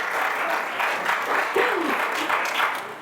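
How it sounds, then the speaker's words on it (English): Audience applause rolls on steadily for a few seconds at a talk, a moderate wash of clapping hands with a voice briefly heard over it before it tapers off. "Let's give you guys a hand."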